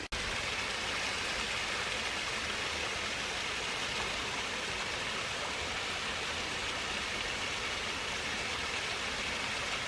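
A waterfall below a bluff in Beaman State Natural Area, Tennessee, sends up a steady, dense rushing roar that fills the whole stretch without a break.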